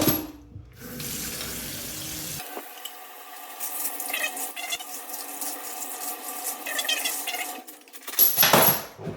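Cold water runs over brass 6.5 Creedmoor rifle cases in a sieve in a sink, a steady splashing wash broken by light metallic rattles and shifting of the cases, close by.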